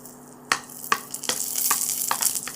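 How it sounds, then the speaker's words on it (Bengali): Whole garam masala, dried chillies and bay leaves hit hot oil in a steady sizzle, with sharp crackles and pops at irregular moments over a bright hiss that builds toward the end. "আমি একটু তেল দিয়ে দিচ্ছি, দিয়ে গোটা গরম মশলা আর শুকনো লঙ্কা আর তেজপাতা ফোড়নে দিচ্ছি।"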